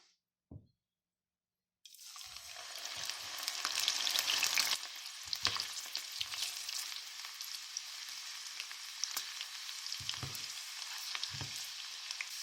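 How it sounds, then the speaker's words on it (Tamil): Chana dal dropped into oil heated over medium to high flame; after a brief quiet and a soft knock, a loud bubbling sizzle starts and holds steady with a few low thumps. "இப்போ நம்ம கடலைப்பருப்பை இதில் போட்டு ஃப்ரை பண்ணி எடுத்துக்கலாம்."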